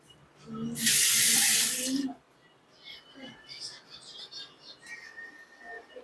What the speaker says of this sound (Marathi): आपल्याला जेवढं कालवण करायचंय तेवढं पाणी टाकणार आहोत आपण